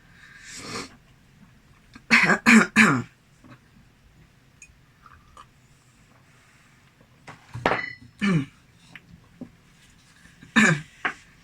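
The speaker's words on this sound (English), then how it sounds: "I'm gonna have to edit out so much coughing." Several harsh coughing bursts, a tight cluster of three early on and a few more spread out later, close by with quiet gaps between.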